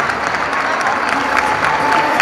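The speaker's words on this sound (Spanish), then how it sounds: "Fuertes aplausos para las chicas." Applause from a crowd at a boxing event for girls, steady clapping with some crowd voices mixed in throughout.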